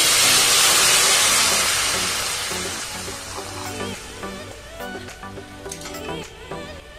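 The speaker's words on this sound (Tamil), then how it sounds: "நான் ஒரு 1/2 லிட்டர் பால் இப்ப இதுல சேர்த்து கொடுக்குறேன்" Half a litre of boiled milk poured into a hot cooking pot sets off a loud, rushing steam hiss that gradually dies away, followed by light stirring knocks and metallic clinks against the pot.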